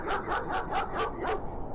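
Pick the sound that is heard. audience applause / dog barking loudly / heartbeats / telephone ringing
dog barking loudly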